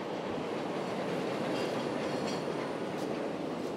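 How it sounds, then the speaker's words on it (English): A continuous loud roar of a Chicago 'L' subway train rumbling through a tunnel, steady and echoing, with faint metallic clatter on top. "like all subways, it's really noisy down here"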